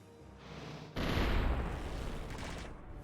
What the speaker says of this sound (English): Let's just open with some golden cannon.